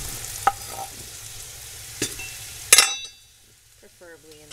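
Sweet potato pieces frying in a pan, steady sizzle punctuated by a few sharp clinks and scrapes of stirring, then a sudden drop to near quiet with faint background sounds.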